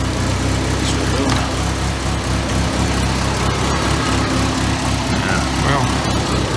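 A 1985 Merkur XR4Ti engine idles roughly, a steady low rumble heard up close with faint uneven pulsing and a few light clicks in the background.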